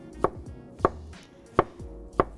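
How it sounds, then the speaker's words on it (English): A kitchen knife slices tomatoes on a cutting board, four crisp, evenly spaced chops close by with no talking. "I just sliced these tomatoes down."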